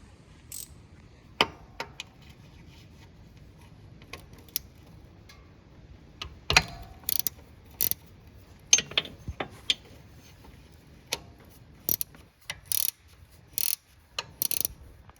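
A ratchet loosens the transmission drain plug on a Polaris RZR 200 with sparse, quiet clicks and ticks. Short irregular bursts of ratcheting are spread over a faint background.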